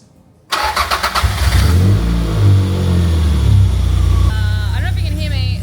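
A Toyota MR2 engine cranks and catches after a moment of quiet, revs briefly, then settles into a rough, low idle, with a person talking over the engine.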